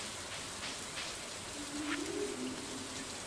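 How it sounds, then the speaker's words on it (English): Steady rain falls in a Stardew Valley farm scene, a soft continuous hiss of drops with a faint low tone swelling in the middle, no voices. "And it's raining again."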